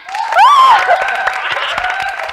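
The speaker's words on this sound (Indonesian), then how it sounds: "Ayo tepuk tangan yang meriah dong untuk kita berdua." Audience applause on a Ramadan television program, with a loud rising and falling cheer or whoop near the start, then steady scattered clapping and a sustained tone beneath it.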